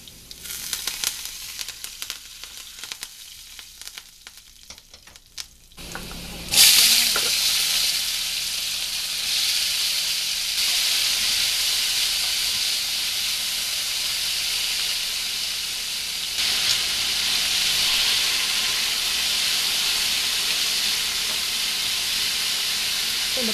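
Curry leaves and diced potato dropped into hot oil in a pan while making sago upma, a quieter crackle giving way to a loud, steady sizzle and hiss that keeps going, close up with no talking.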